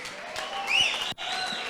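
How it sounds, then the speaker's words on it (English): Crowd applause for MMA fighter BJ Bland at an Eternal MMA event, a short dense burst of clapping from an arena audience with a brief dip near the end. "give him another round of applause"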